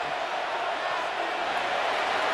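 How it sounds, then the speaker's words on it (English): Stadium crowd cheering in the Madden NFL 26 football game, a broad steady roar of many voices that holds at an even level for the whole stretch. "This crowd into it now as we get to third down"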